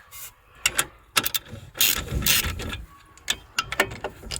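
A ratchet works on 17 mm bolts during a Toyota Prius brake job, sounding as close, bursty metallic clicking and rasping in several short runs separated by brief pauses.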